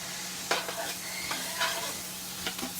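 Onions sizzle in a hot pan over medium-high heat while a utensil stirs them in several scraping strokes, with a steady frying hiss underneath.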